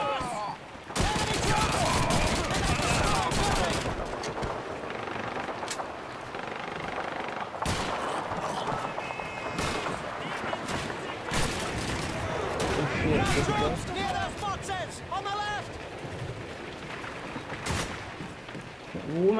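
Call of Duty 2 combat: dense, loud bursts of rifle and machine-gun fire with scattered explosions, rattling almost continuously, while a player talks over the battle.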